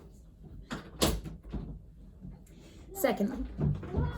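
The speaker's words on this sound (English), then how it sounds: "had to lock the door." A door is pushed shut and locked indoors, with a few knocks, a thud and rattling handling sounds spread across the moment, while a voice speaks briefly over it.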